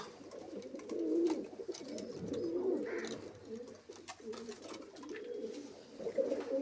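Soft, throaty cooing from several domestic pigeons, including young birds, rises and falls in repeated low phrases, close and unbroken, with faint rustling behind.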